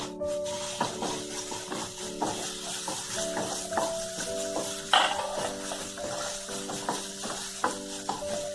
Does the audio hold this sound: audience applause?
no